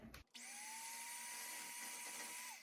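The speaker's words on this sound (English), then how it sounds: "we're gonna mix this on low just until combined" Electric hand mixer beating sourdough cake batter on low speed, a steady close whirring drone that starts after a brief pause and holds evenly for a couple of seconds before winding down.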